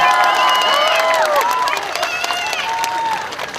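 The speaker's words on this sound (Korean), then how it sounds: "다시 한번 군수님께 큰 박수 부탁드리겠습니다." At an outdoor festival a loud crowd applauds and cheers, with high whoops and shouts rising over a thick, continuous bed of clapping.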